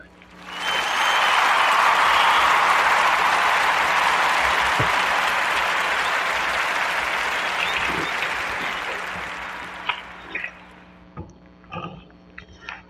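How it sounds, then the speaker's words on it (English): Live podcast audience gives a round of applause for a DJ, a loud sustained burst of clapping that swells quickly, holds, then tapers off into a few scattered claps and small sounds near the end. "Give him a round of applause."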